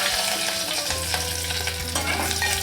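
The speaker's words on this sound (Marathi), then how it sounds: "तेल तापलं की आपण कढीपत्ता टाकूया।" Curry leaves crackle and sizzle in a little hot oil, tempering for mango raita: a dense, continuous fizz with a steady low hum underneath and a few sharp pops and utensil clicks.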